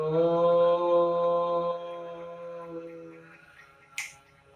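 A single sharp finger snap during breathing meditation, following a sustained droning hum that fades away, leaving the crisp click clear and close in near silence.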